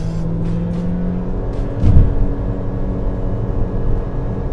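Chery Tiggo 4 engine heard from inside the cabin as the driver pushes it, a steady muffled drone with a brief swell of revving partway through, fairly loud and continuous with no talking.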